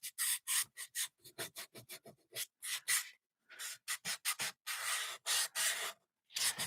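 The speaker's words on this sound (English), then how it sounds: "if you don't like the sound of the sander, just mute your volume because this is all we're doing right now" An electric sander lightly works over a mixed media art piece of whimsical painted strawberries in short, repeated raspy bursts with brief pauses, close and fairly quiet, with no talking.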